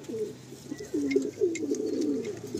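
A Madrasi pigeon, a tournament-flying breed, gives repeated low throaty coos in close, rolling phrases, one after another with no pause, over faint background noise.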